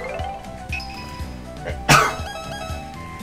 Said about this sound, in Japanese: ごめんなさい、くしゃみ出ました。